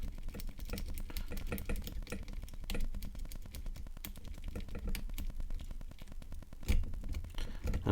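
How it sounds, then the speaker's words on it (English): Lock pick raking and rocking across the pins of a Yale Y130/70 disc padlock, a dense run of fast, close metallic clicks and scrapes that keeps going without a break, with no talk over it. "we're going to try and rake those pins but using a rocking motion, starting out high in the lock, then working way down"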